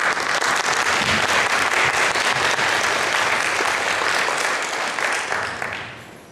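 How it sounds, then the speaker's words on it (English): A crowd at an evening benefit for Our Peaceful Place gives the performers a full, steady round of applause, thick and continuous, that thins and fades away in the final second. "How about another round of applause?"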